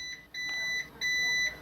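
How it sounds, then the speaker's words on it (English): Electronic alarm sound effect: a high, steady beep that pulses on and off in several long tones over a faint hum, with no voices. "That's the butthole alarm."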